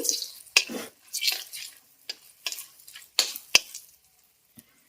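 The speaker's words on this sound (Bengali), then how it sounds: "এবার আমি দিয়ে দিচ্ছি ফোড়ন ফোড়নটা একটু মেরে চেড়ে ভেজে নিচ্ছি" Whole spices for a khichuri tempering crackle and fry in melted ghee, with sharp pops and short bursts of sizzling in a pan between brief quiet gaps, fading out near the end.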